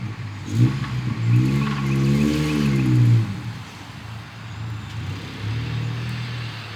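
An old, long-neglected Geo Tracker engine runs while driving, revving up and then dropping back in a rising-and-falling drone, followed by a steadier low hum with road noise around it.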